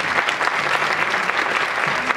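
An audience at a women's council inter-association event applauds a guest, with steady, dense clapping that fills the whole stretch with no gaps.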